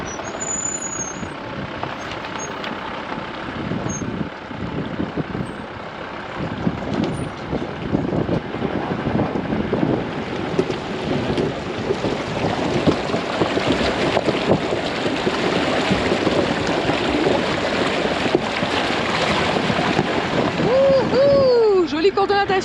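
A vehicle fords a deep mountain stream in Pakistan on a family road trip, with a continuous loud rush of water and engine rumble close to the microphone throughout.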